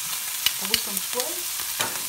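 Aubergines being stirred and fried in a pan while preparing Hama-style smoked eggplant dishes, with scraping stirs and soft intermittent sizzling close by, no talking.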